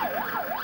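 An ambulance siren wails, sweeping up and down in pitch, loud and continuous, rising and falling in a smooth repeating cycle.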